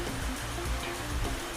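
Nanperiyal waterfall in Sri Lanka roars with a steady, dense rush of falling water, continuous and fairly close, with no voices over it.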